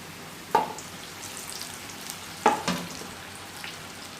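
Potato and onion pakoda balls deep frying in hot oil over a high flame, a faint steady sizzle broken by two sharp splashing bursts as batter drops in.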